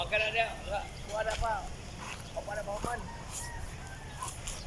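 Free-range chickens cluck and squawk in short bursts at close range, with people talking over the birds.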